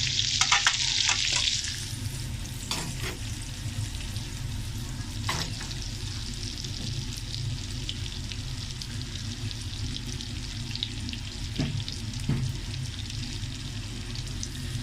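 Thin lengthwise-sliced onions hit a hot pan over high flame, starting with a bright loud sizzle that eases into a continuous steady frying hiss, with occasional clinks and scrapes from stirring.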